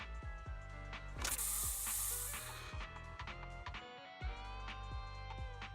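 A special spray device in the video game Zenless Zone Zero gives a loud hissing burst in the middle, surrounded by clicking ratchet-like mechanical sounds and gear whirs in a steady rhythm.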